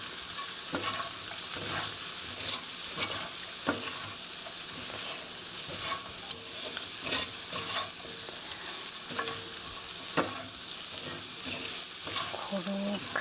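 Curry chicken being stirred in a pan so the curry powder coats it, a steady sizzle of frying under repeated scraping stir strokes, close and continuous, with no talking.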